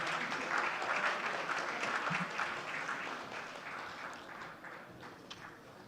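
Large audience at a conclave giving a sustained round of applause to welcome the Chief Minister of Tamil Nadu, dense, even clapping throughout with little else audible.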